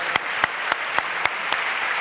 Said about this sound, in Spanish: Un aplauso, por favor, para Mario.